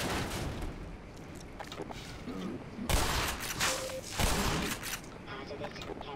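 Gunfire in the video game Black Mesa, loud sharp shots and booms scattered through a busy battle mix, with a few louder blasts in the second half.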